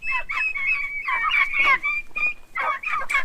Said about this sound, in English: We're trying to put these turkeys in their new pen.